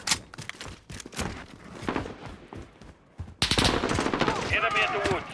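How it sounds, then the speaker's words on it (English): Rapid bursts of automatic gunfire in a military shooter video game, loud and close, with sparser shots early on and then a denser sustained volley, while game voices call out over the shooting. "Firing, still firing."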